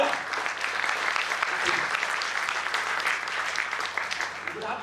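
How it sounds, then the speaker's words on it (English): Audience applause at a motivational training talk, steady sustained clapping throughout, moderately loud and broad, with voices mixed in underneath. "Let's have a big round of applause one more time for all of you on that note."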